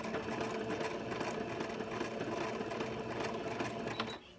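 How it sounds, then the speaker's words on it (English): A sewing machine runs steadily on fabric for an embroidered shirt outfit, its rapid mechanical whir close and continuous before stopping abruptly near the end. "you'll just keep on sewing until you get to the end"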